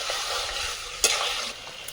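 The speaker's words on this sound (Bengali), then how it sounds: "চিকেনটা ভালো করে কষিয়ে নিচ্ছি।" Chicken for biryani is stirred and fried in a pan, giving a steady close sizzle with scraping spoon strokes and one sharper clatter partway through, no talking.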